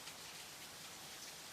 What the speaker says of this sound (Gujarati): વરસાદે બગડા છટી ચાલુ કરી દીધી છે ભાઈ